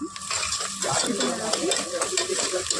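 Ginger and curry leaves fry in a pan for a beef curry, giving a soft, steady sizzle broken by scraping stirs and light clinks from the pan, close but fairly quiet.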